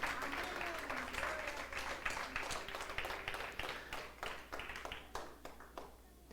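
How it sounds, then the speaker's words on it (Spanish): Church congregation applauding during a Spanish-language sermon by a pastor: a moderate crowd claps steadily over a low room hum, fairly distant, with voices mixed in and the clapping thinning out at the end. "¿Alguien puede decir amén y darle un aplauso al Señor?"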